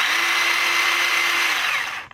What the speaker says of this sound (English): it's obviously going to be like a regular chainsaw, so you want to hold it like this